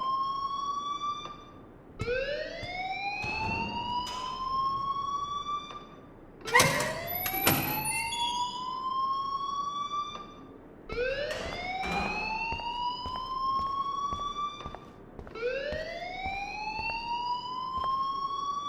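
A school alarm in the video game Life is Strange wails in repeated rising sweeps, each lasting a few seconds with short gaps between them, loud and mechanical, with a brief burst of clatter partway through.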